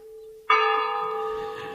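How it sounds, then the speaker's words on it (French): A single church bell, one of three, strikes loudly after a faint lingering tone, its rich metallic ring sustaining and slowly fading. "on sonnait les 3 cloches."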